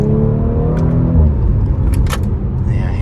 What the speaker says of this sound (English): Let's just drop a gear.